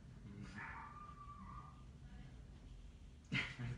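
Dogs yip and bark indoors in a few short bursts, a whining yelp around the middle and a sharper bark near the end, moderately close over a low room hum.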